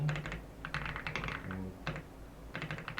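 Code is typed on a computer keyboard in quick, irregular bursts of close, crisp key clicks, with a short pause near the middle and nobody talking.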